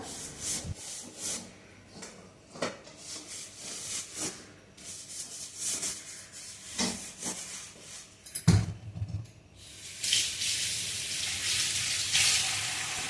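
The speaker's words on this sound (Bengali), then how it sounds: "কড়াইটাকে একটু মেজে নিচ্ছি কারণ এরপরে ভেন্ডি করব আর ডাল কিন্তু সাইডে লেগে থাকে তাই জন্য ধুয়ে নিলাম কড়াইটা" A kadai wok is scrubbed by hand at a kitchen sink with rhythmic, close rubbing strokes. Near the end a tap runs in a steady rush of water.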